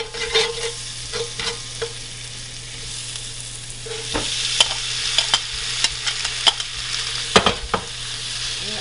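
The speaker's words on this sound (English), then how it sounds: "We'll let that saute for a minute. And then we will add in our corn." Onions and corn sauté in a hot pan with a steady soft sizzle, while a utensil stirs and scrapes in scattered clicks and knocks close by.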